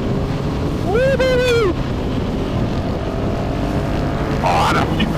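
A Husqvarna 701 Supermoto single-cylinder motorcycle rides at speed on the road, its engine note rising in pitch through the gears under heavy wind rush, with voices talking over it.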